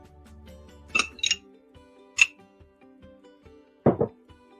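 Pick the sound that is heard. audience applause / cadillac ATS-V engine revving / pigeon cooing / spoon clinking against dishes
spoon clinking against dishes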